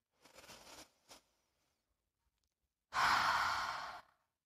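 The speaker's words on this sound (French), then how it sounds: "On va pouvoir faire 3 belles expirations par la bouche." Deep mouth exhalations during yoga breathing: a soft breathy release, a short puff, then after a pause one long, louder, airy sigh, close and alone without talk.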